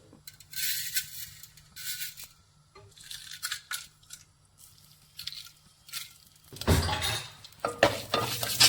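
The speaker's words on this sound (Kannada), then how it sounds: "ಈ ಕಡೆ ಮಣ್ಣೊಂದು ಪಾತ್ರೆ ಇಟ್ಕೊಂಡು ಸಾಂಬಾರಿಗೆ ಒಗ್ಗರಣೆ ಹಾಕ್ಕೊಳ್ತಾ ಇದ್ದೀನಿ" Tempering spices for sambar in a clay pot: intermittent bursts of sizzling and crackling from hot oil, with stirring clinks and a louder, sustained sizzle near the end.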